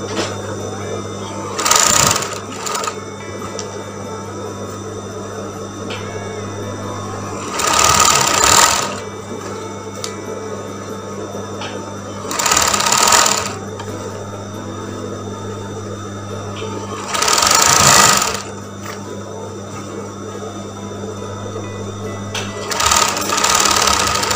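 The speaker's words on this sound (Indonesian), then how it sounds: "Setelah udah kita pasang lengannya, baru kita jahit, baru kita obras sisa kampuhnya." A sewing machine and overlocker run in bursts of several seconds, stitching and serging the sleeve seam of a batik blouse, close and loud over a steady low motor hum.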